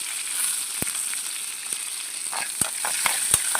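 A tempering of cumin seeds, chana dal, curry leaves and garlic fries in hot oil with a steady close sizzle, dotted with occasional sharp pops and crackles.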